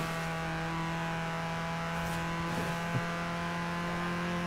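Engine revving of a V8 car in Forza Horizon 4, a steady droning tone with strong harmonics, fairly loud and continuous, with a brief louder blip near the end.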